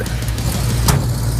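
A 1968 Ford F100 short bed step side pickup with a swapped-in 460 V8 pulls away, its loud, close, low engine rumble steady throughout with a brief rise partway through.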